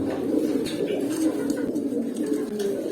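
A pigeon coos steadily in a low, throaty rolling tone, close and fairly loud, continuing throughout.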